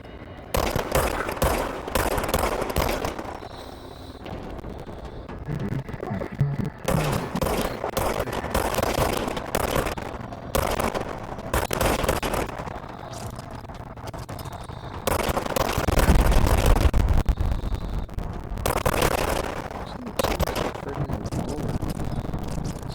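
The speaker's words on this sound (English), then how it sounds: "Now I have a gun." Gunfire in the video game Control, rapid bursts and fusillades of shots coming in repeated loud clusters with short gaps between them.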